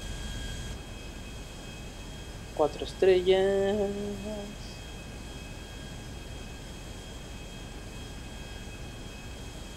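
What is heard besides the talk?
airplane flying in video game GTA V Online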